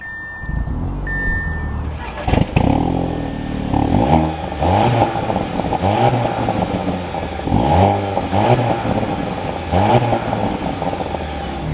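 A 2023 Audi TT 45 TFSI Quattro Roadster starting up with a sharp burst of engine noise, then settling into a steady, rumbling idle close by.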